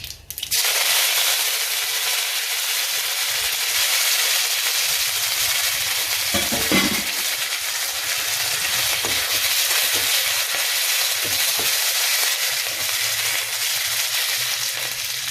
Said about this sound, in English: Once all the mustard has started to burst, after that only you can add the chili and the dried chili